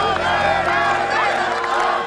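An angry crowd of Châteauguay residents yells and shouts at a protest over the blocked Mercier Bridge, venting at a Mohawk warrior effigy; a dense, steady wall of many overlapping raised voices, close and loud throughout.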